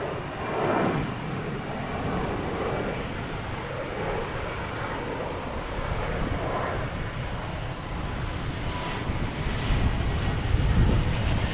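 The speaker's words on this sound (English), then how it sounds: "we got JetBlue and A220 heading to Montreal with an airport code of YMX" A JetBlue Airbus A220 departs Boston Logan Airport toward Montreal, its engines producing a loud, steady roar that swells slightly toward the end and comes through wind-buffeted microphone noise.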